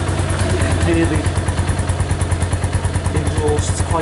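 A Keeway Superlight LTD motorcycle idles with a steady, bubbly exhaust pulse and light engine clatter, close and fairly loud, running throughout.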